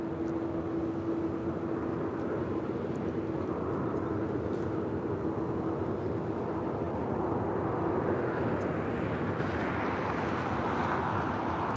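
Southwest airliner bound for Austin rolling down runway 25 right at LAX on takeoff, a distant, low jet roar that swells gradually and stays fairly faint throughout.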